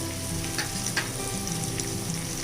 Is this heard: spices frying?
yes